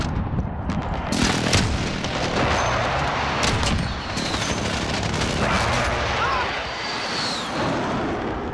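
Gunfire in Call of Duty Modern Warfare booms as dense, continuous shots and explosions over a loud battle din, with a voice speaking over the action.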